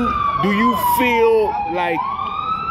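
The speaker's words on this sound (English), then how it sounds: "Hold on a second for the siren." A police-type emergency siren wails loud and steady outdoors, sweeping slowly in pitch through its whole length, while someone talks over it.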